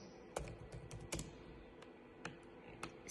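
Quick, uneven bursts of keystrokes on a computer keyboard while entering text into a website, a handful of clear clicks clustered early, then sparser taps over a quiet room background.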